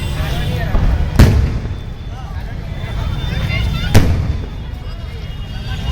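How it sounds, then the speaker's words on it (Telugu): Firecrackers burst at a Dasara celebration, two sharp distant cracks standing out over a steady wash of crowd and street noise. "పైన చూస్తున్నట్లయితే క్రాకర్స్ అయితే చాలా అందంగా వెళ్తున్నాయి, చూడండి"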